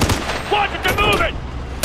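Assault rifle gunfire in Ghost Recon Future Soldier rattles in dense bursts through a loud combat mix, with voices shouting over the shooting.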